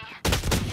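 A sudden loud burst of gunfire in the video game Valorant breaks out after a brief quiet moment and continues as rapid close shots.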